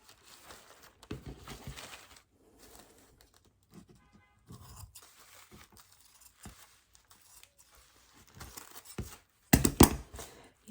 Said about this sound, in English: cut out this square. And I apologize, my scissors are needing to be sharpened.